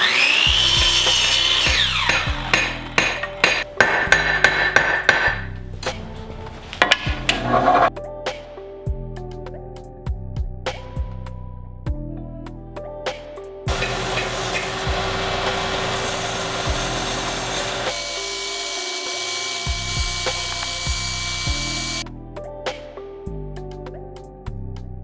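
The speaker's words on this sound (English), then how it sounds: "And then I'll take it to the bandsaw." A bandsaw cuts through oak for a wooden mallet, a loud steady machine whine with repeated cutting passes and short pauses between them, close and alone with no talking.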